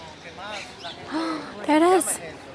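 A parrot in Madrid calls several times with rising, squawky whistled notes, loudest near the end, against faint outdoor background.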